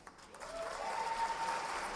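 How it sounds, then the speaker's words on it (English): An audience at the Golden Joystick Awards 2019 breaks into applause that swells quickly and holds steady, many hands clapping together at moderate distance. "Round of applause for not Aaron Greenberg."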